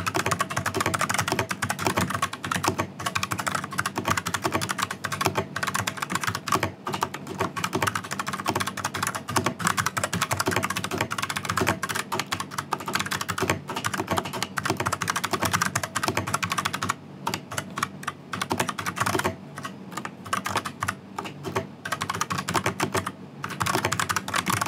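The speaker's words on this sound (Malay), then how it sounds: "ini typing test guna Meta K80 brown switches" Steady, fast typing on a Meta K80 wireless TKL mechanical keyboard fitted with brown switches, a dense, continuous clatter of close key presses with a few brief pauses and no talking.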